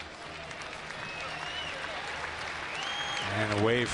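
Basketball crowd in an arena during a Pelicans vs Celtics game, applauding an injured player with a steady wash of clapping that swells near the end, under a commentator talking.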